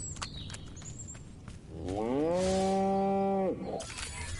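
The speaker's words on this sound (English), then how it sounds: "Again with the moo?" A cow moos in the video game Destroy All Humans, a single loud, drawn-out low bellow of about two seconds rising after a few soft clicks and thuds.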